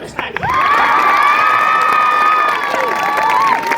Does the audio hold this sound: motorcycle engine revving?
no